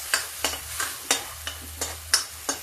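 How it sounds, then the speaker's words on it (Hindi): Garlic, onion and ginger tadka for chana palak dal sizzles in a pan. A soft steady fry runs underneath, while a utensil stirs with regular scraping strokes about every third of a second, close and clear. "ये लहसुन प्याज और अदरक का तड़का है।"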